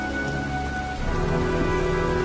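Steady heavy rain pours and patters across surfaces in a storm scene from the video game Heavy Rain, a dense continuous hiss that swells slightly louder partway through, with faint low rumbles underneath and no talking.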